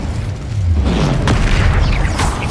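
Fire spell cast in Hogwarts Legacy, a loud boomy burst with a dense low rumble running the whole time and a sharper crackle near the middle, set in a busy game mix.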